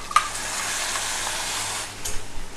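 Coconut, tomato and mustard paste fries with onions in hot oil. It gives a steady, close sizzle with stirring scrapes and a small clink near the start.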